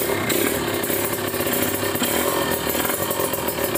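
Kawasaki Ninja RR two-stroke motorcycle with a Mikuni carburetor, choked after long disuse and kick-started, running as a loud, steady, raspy engine drone close by throughout.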